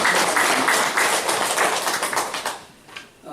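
A church congregation applauds the choir with loud, dense clapping that holds steady, then thins out and fades toward the end.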